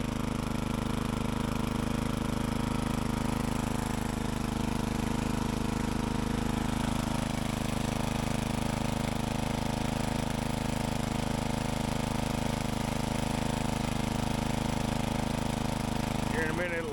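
A Chinese-made motor drones continuously under load while an above ground pool liner is being worked, a loud, steady hum with a low rumble that holds unchanged throughout.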